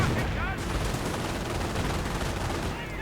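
Nebelwerfer rocket artillery firing in a World War II strategy video game, a loud, dense barrage of bursts and howling launches filling the whole moment, with a commentator's voice faintly underneath.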